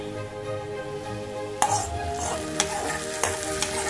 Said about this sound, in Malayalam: നമുക്ക് കറിയിലേക്ക് ഒഴിച്ചോ.